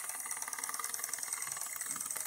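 A Bowman M140 live steam engine runs steadily on a low flame, chuffing in a rapid, even mechanical rhythm with a light rattle, close and moderately quiet, with no talk over it.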